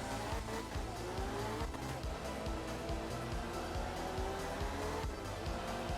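Two-wheel-drive rally car in the 1980s-style game art of rally, engine revving up and down through gear changes while power sliding, with tire squeal under a constant motor drone.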